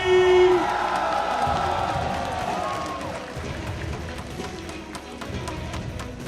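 Supporters of fighter Ikhsan 'The Black Ranger' Lani cheer and applaud at a fight night after his knockout of Andy Setianegara, a loud, sustained crowd roar with whoops and clapping that swells and dips throughout.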